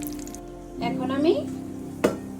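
Egg and milk batter for egg halwa poured into a hot pan, giving a brief soft sizzle under background music, then a short utensil clank near the end.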